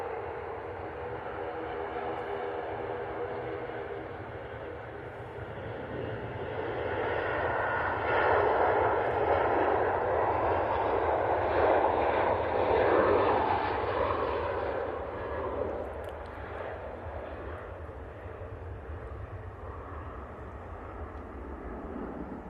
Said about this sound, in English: Next out, we have this Ryanair 737-800.